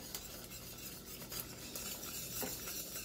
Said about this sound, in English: you just want to keep stirring it